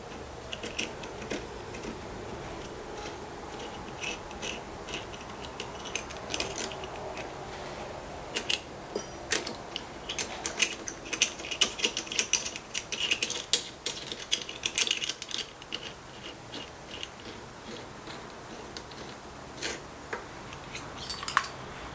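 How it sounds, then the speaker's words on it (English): Small metallic clicks, taps and ticks from parts being handled while the head clamp assembly of a KS LEV dropper post is taken apart, an irregular series that grows busier midway and continues to the end, with no talk. "first we're going to disassemble the head clamp assembly here"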